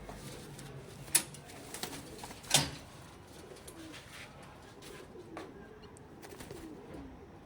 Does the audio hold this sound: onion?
no